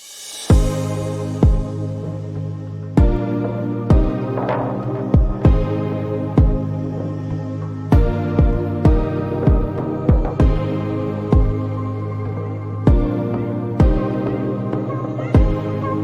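An impact driver sinking 2.5-inch torque screws through a dog house top plate and corner stud in a workshop, heard as close, loud, rapid rhythmic hammering bursts repeating steadily throughout.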